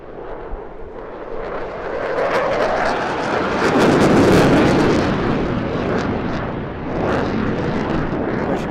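A military jet at an airshow, pulling up from 120 knots into full reheat and climbing near-vertically, gives a loud, sustained roar that builds to a thunderous peak midway, dips briefly, then surges again.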